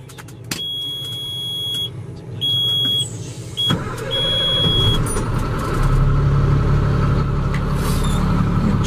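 A 2006 Peterbilt 335 truck engine cranks and catches, then settles into a steady rumbling idle, with a few electronic beeps and clicks before it starts.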